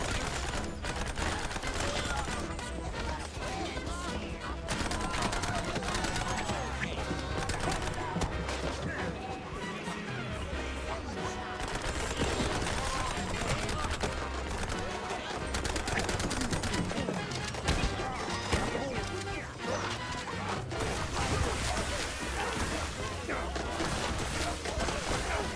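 Dense, continuous gunfire and explosions from a video game, rapid and relentless throughout, with a voice speaking faintly beneath the chaos.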